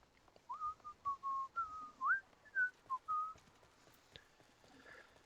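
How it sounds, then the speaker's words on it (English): A person whistles a short melodic tune, a series of clear sustained notes with small slides between them, close and quiet, then stops into near silence with a faint click. "Sorry, I shouldn't be whistling."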